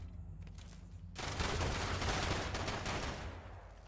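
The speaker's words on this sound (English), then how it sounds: "That shotgun turret is sort of money." In the video game Fallout 76, a shotgun turret opens fire after a quiet start, with dense, rapid bursts of gunfire that fill the last few seconds.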